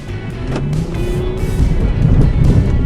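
2019 Honda Pilot with all-wheel drive in sand mode, driving through loose sand off-road: a steady, loud engine drone with a low rumble and a rising pull as the wheels churn forward, no talk.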